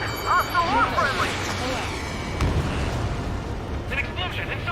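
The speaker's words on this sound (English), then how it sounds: "An explosion inside." A deep rolling explosion booms in the Ace Combat 7: Skies Unknown video game, mixed with steady radio chatter and in-game voices throughout.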